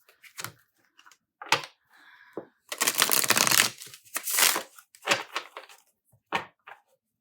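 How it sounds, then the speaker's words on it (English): Tarot cards are shuffled by hand, giving irregular bursts of riffling, slapping and crisp flicks close to the mic, separated by short silences. "shuffling all of the questions into the cards"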